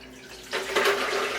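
A strawberry, simple syrup and lemon juice mixture splashes into a blender, starting abruptly after a quiet moment and continuing as a steady, close liquid pour.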